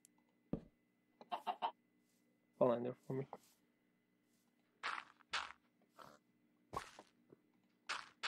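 Minecraft chicken clucks in short scattered bursts, fairly close and clear against a quiet background, with brief gaps between calls.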